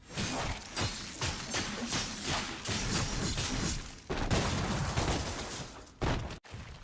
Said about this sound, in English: Here we see the ricochet, which is a hold move with your ebony and ivory